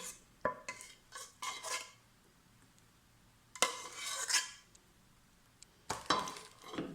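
A metal spoon scraping and clinking against the bottom of a pot while stirring a biscuit cake cream, in several short, close bursts separated by quiet gaps, with no talk.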